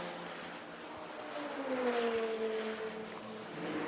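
A GT2 Mercedes race car with over 700 horsepower at Spa, its engine droning and rising in pitch as it accelerates through a gear, loud and steady with no talk.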